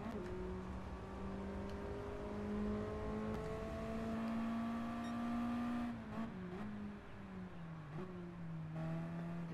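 Small Mazda Eunos Roadster four-cylinder engine in Gran Turismo Sport, a steady, loud in-game drone climbing and falling through the revs, with downshifts and blips near the end as the car brakes hard.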